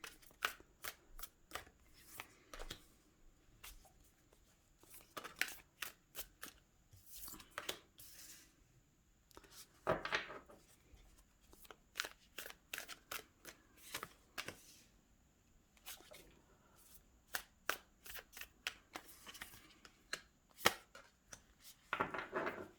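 A mermaid-themed tarot deck is shuffled by hand in quick, crisp riffles and slaps that come in bursts separated by short pauses, close and fairly quiet, with no talking.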